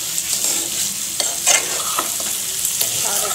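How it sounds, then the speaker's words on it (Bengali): Beef kala bhuna is stirred and fried in a pan over the stove: a loud, continuous sizzle broken by repeated scraping strokes of the spoon. "এখন এটাকে আমি আরেকটু ভাজা ভাজা করব, চুলার উপরে আরেকটু নাড়তে থাকবো"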